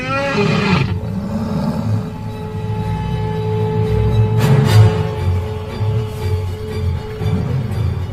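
Lions give deep, loud roars and growls during a fight between a lioness pride and invaders, with a rising snarl at the start and repeated rough bursts throughout, close and continuous.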